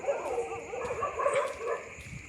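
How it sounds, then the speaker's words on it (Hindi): Several dogs bark and yelp at night at a street crossing, the calls overlapping in a dense, continuous mix with some whimpering yips, fairly close and steady throughout. "कुत्ते वगैरह भौंक रहे हैं, आप सुन रहे होंगे"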